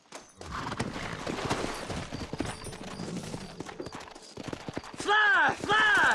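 Horse hooves clatter irregularly in Red Dead Redemption amid game sounds, followed near the end by two loud, high whinnies from a horse.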